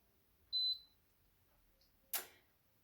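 A single short electronic beep rings out clearly as a rice cooker starts, followed after a pause by a brief click-like tap, in an otherwise quiet room.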